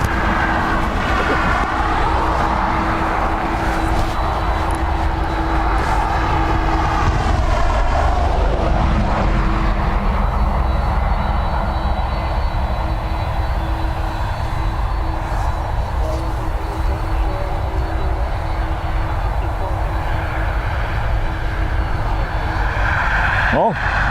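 ATR turboprop airliner at Dublin Airport, a loud close droning engine roar with a steady propeller tone that holds throughout, while people talk over it.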